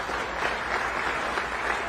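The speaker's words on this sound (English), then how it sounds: "Give him a round of applause." Audience applause at a memorial pull-off selection ceremony, an even patter of many hands clapping throughout the short stretch, moderately distant and without talk.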